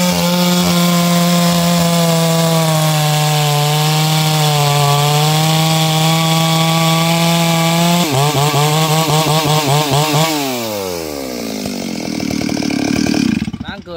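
A Stihl 034 Super chainsaw runs loud and close with a steady droning engine note, then revs up and down in rising and falling sweeps before cutting out abruptly at the end.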